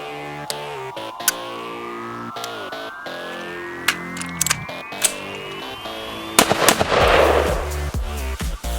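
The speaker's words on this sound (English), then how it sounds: "Rack the action fully to the rear, allowing gravity to remove the stovepipe." Clearing a stovepipe malfunction on an AR rifle produces a series of sharp, close metallic clicks and clacks from the magazine being tapped and the action being racked, ending in a louder burst of handling noise.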